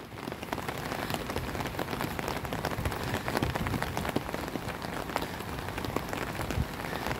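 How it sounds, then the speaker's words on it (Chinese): Rain falling beside a creek at Zhuxi in Tainan, Taiwan, a dense continuous patter of drops striking nearby surfaces, steady and fairly loud, without speech. "又是在下雨"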